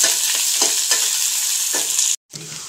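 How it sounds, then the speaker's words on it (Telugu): Chopped onions fry for a drumstick leaf curry in a pan with curry leaves and red chillies, giving a loud, steady sizzle with scraping stirs. Near the end the sizzle briefly cuts out, then comes back. "కట్ చేసి పెట్టుకున్న ఆనియన్స్ ఇవి మంచిగా ఫ్రై చేసుకోవాలి"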